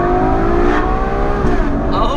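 A Ferrari GTC4 Lusso engine drones steadily from inside the cabin, its exhaust note rising slightly as it revs, loud and continuous throughout.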